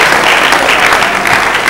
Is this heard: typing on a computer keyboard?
no